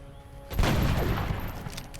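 Suppressing gunfire in the Long War XCOM game breaks out as a sudden burst of rapid shots, a dense rattling volley that keeps going to the end, moderately loud with no talk over it.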